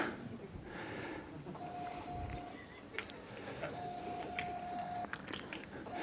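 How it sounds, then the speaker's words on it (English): A small, cheap black-and-white Bluetooth printer printing a tweet, giving faint repeated whirring feed tones in short bursts with soft clicks, set against quiet room noise. "It's a really, well, really crappy black and white printer."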